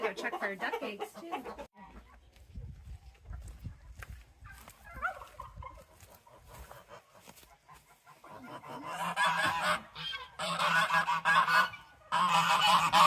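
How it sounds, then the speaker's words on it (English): A goose on a farm honks in loud, harsh bursts, with scattered calls early on and a cluster of strong, close honks toward the end. "Look at this goose egg from Rose."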